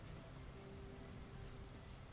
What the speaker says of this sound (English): Maybe it's just the rain.